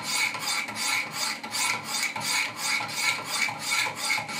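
Steady back-and-forth sharpening strokes on a Benchmade 940 knife clamped in a Wicked Edge guided sharpener, a regular rhythmic rasping about three strokes per second, close and clear with no talking.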